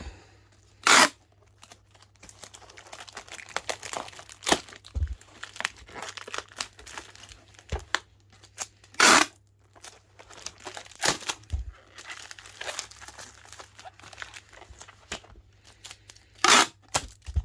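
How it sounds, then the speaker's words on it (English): Parcels being packed with packing tape and black cellophane wrap, heard up close as bursts of crinkling and crackling plastic and sharp tearing strips at irregular intervals. No voices. "I'm going to put a bit more tape around them. I'm going to black cellophane wrap them"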